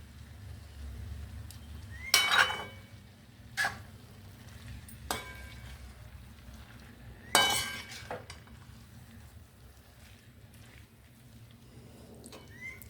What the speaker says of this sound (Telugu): బాగా కలుపుకోవాలండి. బాగా కలుపుకోవాలి.